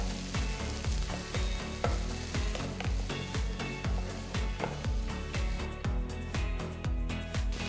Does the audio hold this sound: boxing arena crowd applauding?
no